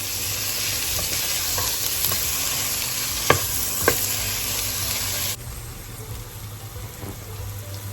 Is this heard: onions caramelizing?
yes